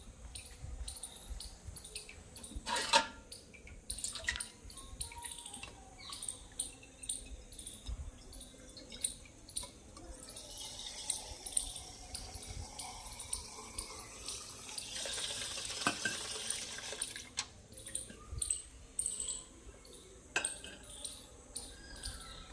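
Water runs from a tap into a small metal pot, its splashing tone rising as the pot fills, with occasional clinks and quiet room noise at a temple.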